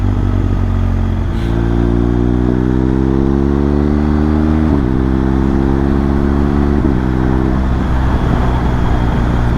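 A motorcycle accelerates hard on a road, its engine note climbing in pitch. Quick-shifter upshifts clip it sharply about three times, loud and close over steady wind and road roar.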